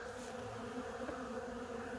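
Honeybees crowd around a few drops of syrup near a hive after the honey harvest, their steady buzzing drone filling the space close up and continuous throughout.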